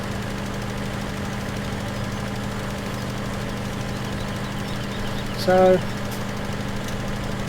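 A tractor engine in Farming Simulator 17 runs at a steady idle, making a low, even drone that holds through the whole stretch, with a short spoken word near the end.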